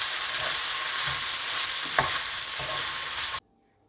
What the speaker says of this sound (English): add the red sauce and mix well